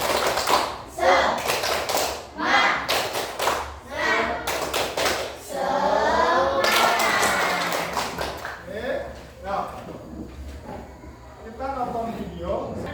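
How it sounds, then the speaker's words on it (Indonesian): A classroom of students performs a rhythmic spirit clap, bursts of quick patterned claps in tight groups separated by pauses, loud and close, with a teacher and students speaking and chanting between the rounds. "Tepuk semangat."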